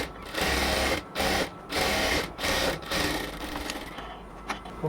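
A sewing machine stitching a cotton dress, whirring in short close bursts separated by brief stops, then running more steadily toward the end.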